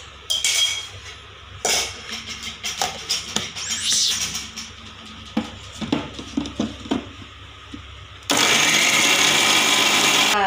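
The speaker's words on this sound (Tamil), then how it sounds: "இதையும் ஜாரில் போட்டு அரைச்சிடணும்" A mixer grinder jar grinds masala for mutton curry, first in short stuttering bursts with clinks of the jar, then running loudly and steadily to the end.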